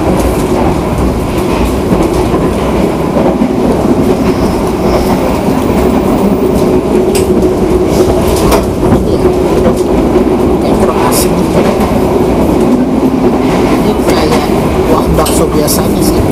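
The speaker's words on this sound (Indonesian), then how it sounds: "soalnya keretanya gelombang banget" Inside a moving passenger train carriage travelling from Semarang Tawang to Gambir, a loud continuous rumble with rail clacks and rattling, while a person speaks over it intermittently.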